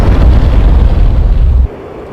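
A GBU-12 bomb strikes its target in a Mirage 2000C flight simulator game, one loud, deep explosion that roars and rumbles for over a second before cutting to a quieter hum.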